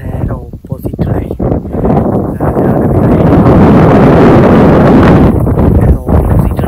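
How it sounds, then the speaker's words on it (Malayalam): Strong wind buffets the microphone on a misty hilltop facing Kurishumala, a loud, continuous rushing roar that swells in the middle and eases slightly near the end. "കാറ്റുണ്ട്."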